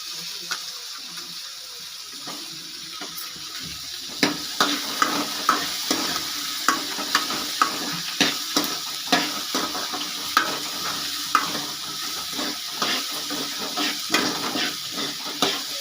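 Potatoes and brinjal being sautéed with onions in a pan, a soft sizzle beneath regular scraping strokes of a spatula that grow sharper and more rhythmic after the first few seconds, close by and without talk.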